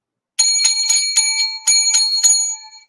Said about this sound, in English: 7 lucky bells of happiness